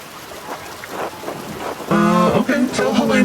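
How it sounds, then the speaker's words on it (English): Steady rain falls in the video game Pentiment, a soft constant hiss with faint rumbles, joined midway by louder tonal game sounds. "And Andreas, stay out of the rain."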